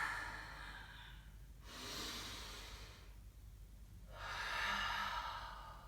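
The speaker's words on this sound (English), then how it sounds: "Full breath in. Full breath out." Slow, deep breaths during a vinyasa core strength yoga session, two long airy exhalations separated by a quiet pause, soft and close with no talk.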